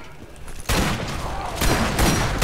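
Borderlands shotgun blasts tearing into enemies, loud dense bursts of gunfire starting abruptly and repeating in heavy overlapping waves with a second surge near the end, no talk.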